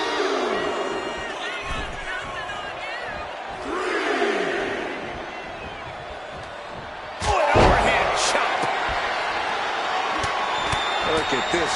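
Arena crowd in the WWE 2K25 wrestling video game on PS4 cheering and roaring as a steady backdrop, swelling louder around a heavy slam midway, with commentary voices talking over it throughout.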